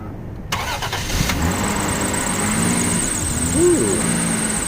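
A Lexus SC300 with a 2JZ engine cranks and catches after a battery swap, then settles into a steady idle with a faint high whine above it, close and fairly loud.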